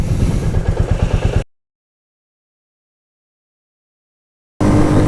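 Royal Enfield Meteor 350 motorcycle exhaust, a loud, close, pulsing engine note that drops into a long silent gap before returning just as loud at the end.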